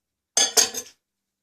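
A metal knife clatters onto the glass turntable inside a workplace microwave, a short bright clink and rattle lasting about half a second, close and alone.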